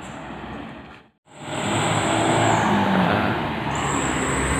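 A loaded chili pepper truck setting off from Blitar roars at full throttle, loud and close, with a steady engine drone that briefly drops out before surging back and holding strong.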